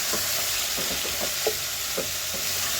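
Local chicken frying in a pan, a steady close sizzle with occasional stirring scrapes and light pops, no talking.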